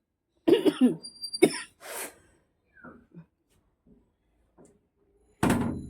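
A few sharp coughs close up, followed by quieter rustles and a loud thump at the end.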